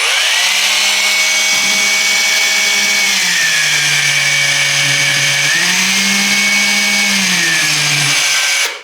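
A Parkside Performance PKHAP 20V cordless hammer drill whirs steadily in drill mode without impact for about nine seconds, its motor pitch dipping and rising a few times as the trigger is eased and squeezed, close and loud.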